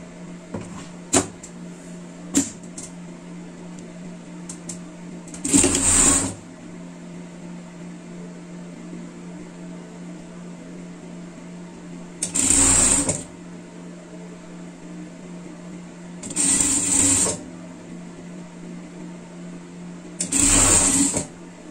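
Sewing machine stitching fabric in a home sewing session, four short loud bursts of fast mechanical whirring separated by quiet pauses, close up, with faint handling sounds between runs.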